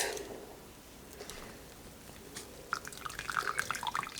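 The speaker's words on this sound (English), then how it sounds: "So this is going to drain here for a while." Whey drains from homemade cheese curds, a soft trickle that becomes quick, light drips toward the end, close and fairly quiet.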